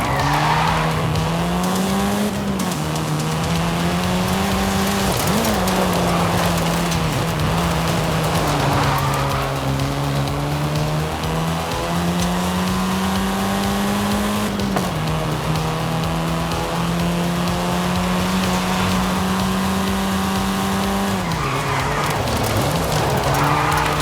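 A car in Forza Horizon 5 holds a loud, sustained engine drone, its pitch rising and falling through gear changes, with tire squeal and skidding throughout.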